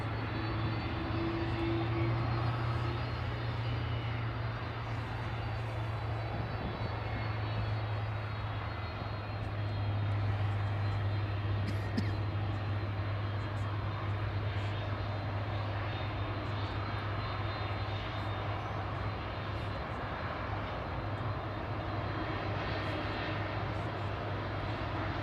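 Cathay Pacific airliner at Manchester Airport, engines idling with a steady low hum and a faint thin whistle over a broad rumble, distant and constant.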